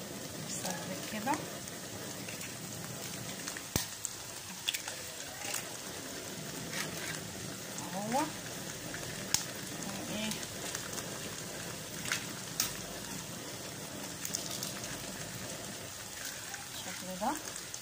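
Eggs sizzle and crackle steadily in a frying pan with bluebeef, a continuous hiss with small pops and spits throughout, while a person talks over it.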